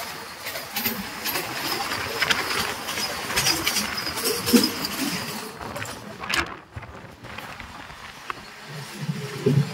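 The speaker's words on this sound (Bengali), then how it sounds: "আমরা এখন অতিক্রম করছি কাতালুন্দি রেল ব্রিজ।" Train crossing the Kadalundi rail bridge on the Konkan route, a steady loud rumble and rattle of wheels on track running throughout, with brief clanking bursts and a short dip partway through.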